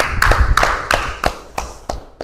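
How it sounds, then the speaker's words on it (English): Hand claps at a press conference ring out in a steady, evenly spaced rhythm, about six sharp slaps close by that fade slightly toward the end. "Another round of applause for her and the entire committee."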